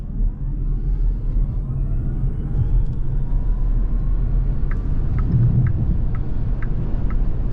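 An XPENG G6 Performance electric car launches from a standstill to 100 km/h, a steady low rumble of road and tyre noise building under a rising faint electric whine, with a few soft clicks near the end.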